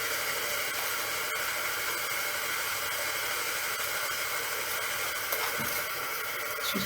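Steady close hiss of a steamer running while a balsa wood part for a model jet is bent, a continuous broadband rush with a brief puff near the end.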